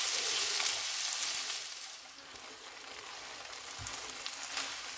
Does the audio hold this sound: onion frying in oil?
yes